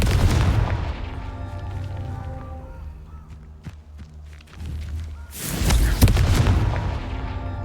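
A Confringo blast from the Hogwarts Legacy video game sounds as deep booming explosions, a loud one opening the clip and another heavy rumbling burst near the end, with quieter thuds and ringing tones between them.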